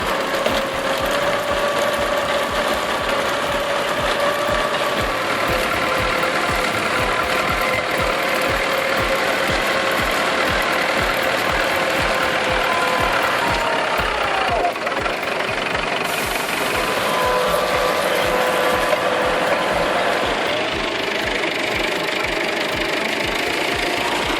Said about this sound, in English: using a front assist tractor with a winch is crucial